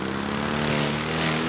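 A self-propelled lawn mower runs with a steady, close, droning hum and no change in pitch, no talking.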